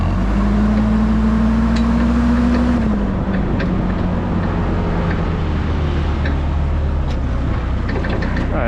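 Forklift engine droning steadily nearby while driving, a sustained tone that rises slightly then drops after a few seconds, continuous throughout with no talk.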